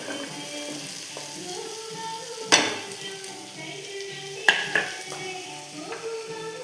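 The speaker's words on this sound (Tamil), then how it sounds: "இது நல்லா போட்டு நல்லா வதக்கணும்" Chopped beans, carrot and potato sizzle steadily in a hot pan, with a spoon stirring and scraping and a few sharp metallic clinks against the pan, close and continuous.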